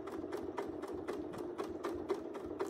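Sewing machine running for free-motion stitching, a fast even train of sharp needle clacks over a steady motor hum, close and alone without talk.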